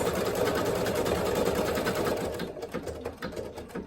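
A domestic embroidery machine stitching a design with Angelina film runs in a steady rapid needle rhythm, then slows and thins out near the end as it stops.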